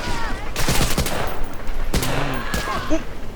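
Gunfire in the World War II shooter Medal of Honor: Breakthrough, with dense, continuous bursts of shots over a busy battle din and a few sharp, louder cracks.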